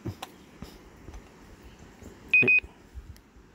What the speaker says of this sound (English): Went beep beep. Maybe the battery's low.